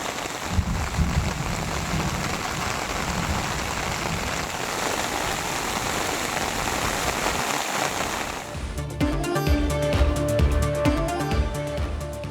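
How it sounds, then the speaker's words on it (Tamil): Heavy rain in Malappuram, Kerala pours as a dense, steady roar for most of the stretch before the sound cuts to a different scene, with no voices over it. "கேரள மாநிலம் மலப்புரம் மாவட்டத்தில் கனமழை."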